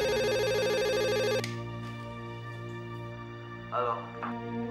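A telephone rings during a call in an Indonesian soap drama: a loud, bright electronic ringtone for about a second and a half, then it cuts off, leaving a quiet room with a few faint electronic tones.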